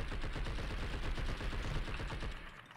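Continuous gunfire in Blood & Bacon aimed at butterflies, a steady stream of close, rapid shots fading slightly at the end.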